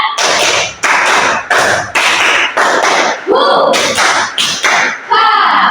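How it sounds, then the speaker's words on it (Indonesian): A class of students performs a 'tepuk semangat' clapping chant during a micro-teaching practice lesson: sharp, rhythmic bursts of group claps in quick patterned sequences, loud and close, with voices chanting along between the claps. "Kita tepuk semangat dulu ya."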